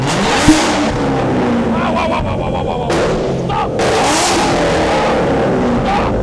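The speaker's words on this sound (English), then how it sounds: "Keep getting told off for revving the car" A car revs hard through its aftermarket exhaust, a loud, close, continuous roar that swells and dips in pitch over several seconds.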